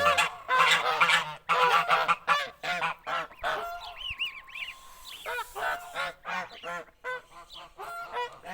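Geese honk loudly and repeatedly as they squabble near their goslings, harsh close calls coming in rapid clustered bursts.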